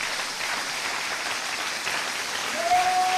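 A church congregation claps in steady, continuous applause. A sustained tone rises near the end, likely a keyboard or organ entering.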